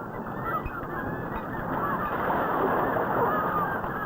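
Seabirds call and squabble around a fishing trawler at sea as the catch comes aboard, a dense, continuous chorus of harsh cries over steady engine and wind noise.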